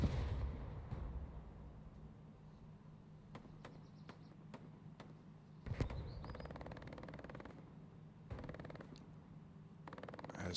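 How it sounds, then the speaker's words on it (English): Artillery fire in an online military shooter match, a series of sharp distant booms and bangs at irregular intervals over a low steady background. "Artillery already coming out."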